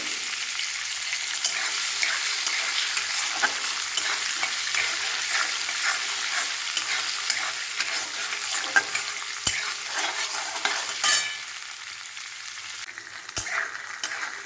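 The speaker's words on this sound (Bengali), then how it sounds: "এগুলো আমার সব ভাজা হয়ে গেছে, ছোলা বাদাম।" Chickpeas and peanuts frying in oil with chopped ginger sizzle steadily in a pan, close and continuous, with occasional stirring scrapes and clicks of a spoon against the pan.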